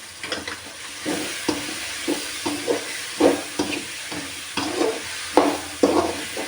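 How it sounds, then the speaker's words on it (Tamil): Broad beans sautéing with tomato in a pan, with a low sizzle broken by a series of distinct stirring strokes that scrape the pan at uneven intervals, close and fairly clear. "அவரைக்காயை போட்டு நல்லா வதங்கணும்"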